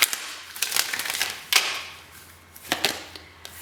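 Tarot cards being shuffled by hand in a pick-a-card reading, a series of crisp, sharp riffling snaps and flutters in uneven bursts with soft pauses between, close and fairly quiet, no speech.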